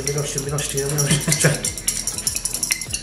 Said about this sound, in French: Et avec la fourchette, tu vas fouetter.